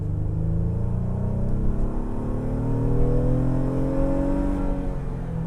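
A 2023 Honda Pilot TrailSport with its 3.5-liter naturally aspirated V6 accelerates in sport mode onto a highway, the engine note climbing steadily through the revs, loud and continuous from inside the cabin with no talking.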